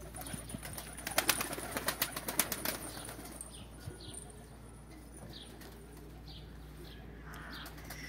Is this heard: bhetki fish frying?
no